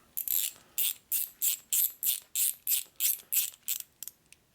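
Ratchet tightening a nut with a lock washer onto a bracket during a Harley shovelhead motorcycle build, a crisp run of about a dozen evenly spaced ratcheting strokes, close and clear, fading to shorter clicks at the end.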